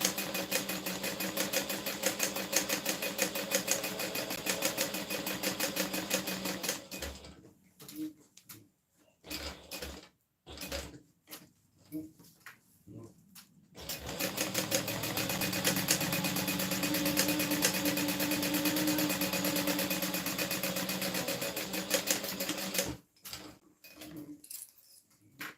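A sewing machine stitching down both edges of webbing, running in long continuous buzzing stretches broken by short stops and a few brief bursts, fairly quiet and close.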